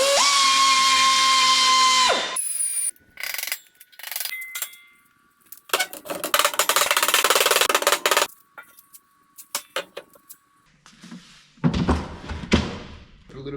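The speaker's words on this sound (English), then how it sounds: "I'm just going to hit this with the die grinder" A die grinder takes a burr off a metal workbench, whining in two loud sustained bursts amid scattered knocks, clanks and quieter handling noises.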